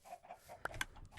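Minecraft chickens clucking inside a chicken house in a game, a few short, soft clucks followed by two brief sharper squawks near the end, quiet and close.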